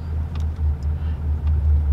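Mercedes G-Class widebody AMG engine running with a steady low rumble that swells in repeated pulses as the throttle is blipped, close and continuous, with no voices over it.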